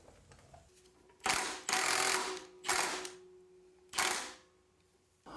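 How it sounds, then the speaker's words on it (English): Impact wrench hammering on a Dana 44 spindle puller in three loud, close bursts of about half a second to a second each, separated by short pauses, with a steady mechanical whine beneath the bursts. "Now I'm going to use the impact to drive this in, and hopefully it comes out."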